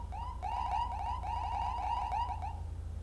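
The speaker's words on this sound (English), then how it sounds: "you press the R key, and that will blip your siren" A police car siren blip in the GTA 5 video game: a rapid, repeating electronic warble that runs for about two and a half seconds, steady and clear, with no talk over it.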